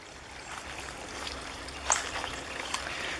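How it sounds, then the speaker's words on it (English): Water trickling steadily along old, overgrown railroad rails on a derelict yard track, a soft continuous babble heard outdoors with a faint click partway through. "the railroad rails have made like a little creek"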